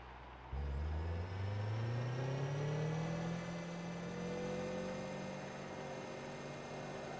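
Race car engine in Forza Motorsport 2 at Tsukuba, kicking in after a brief quiet start and climbing steadily in pitch as it accelerates, then holding a loud sustained drone with no talk.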